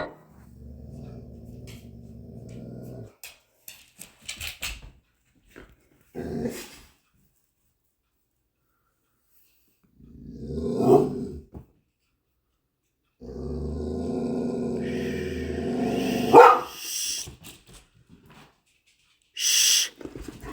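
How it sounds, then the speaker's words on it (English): A dog growls low and steady, then lets out intermittent louder barks and growl bursts, close by, with long quiet gaps between the outbursts. "The pet growled, stared ahead, and was clearly seeing something the owner could not notice."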